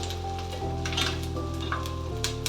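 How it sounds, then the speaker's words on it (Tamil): Onions sauté in a hot pan for chicken gravy, giving a soft, steady sizzle with occasional light ticks and stirring clinks, fairly close and without any talking. "வெங்காயம் வதங்கிட்டு இருக்கு"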